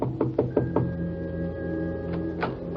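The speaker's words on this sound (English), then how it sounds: "She told me to wait, then she went over and knocked on the door." Knocking on an office door, four quick sharp raps close by, then a pause and two more spaced knocks over a faint steady hum.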